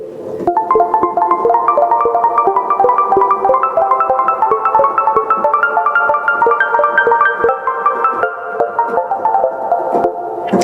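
A classical Bach piece played on keyboard, a steady stream of dense, fast notes carrying on loudly and evenly for the full length, with no voices.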